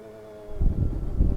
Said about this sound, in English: now we will bring up the revs, bring the clutch out very, very gingerly